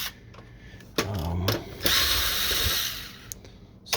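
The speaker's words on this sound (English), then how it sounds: "you can just remove these screws right here" Screws come out of an HP Deskjet 2546 printer being taken apart, giving close, quiet ratcheting clicks and scraping metallic turns over a low background hum.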